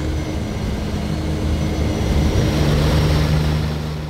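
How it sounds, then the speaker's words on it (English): Inside a chartered aircraft flying toward Edinburgh, a loud continuous engine drone with a low steady hum fills the cabin, unbroken by voices. "A chartered aircraft takes them back to Edinburgh."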